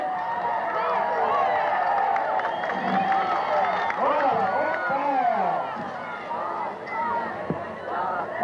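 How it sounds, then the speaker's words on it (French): Crowd at a junior BMX racing championship cheering and clapping for young riders, a continuous outdoor din of voices and scattered applause with an announcer talking over it. "On les encourage, on les applaudit"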